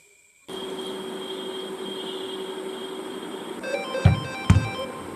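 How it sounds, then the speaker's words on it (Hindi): A steady electronic ringtone tone plays continuously, joined near the end by a couple of sharp knocks or thumps. "अरे मेरी बेटी का फोन"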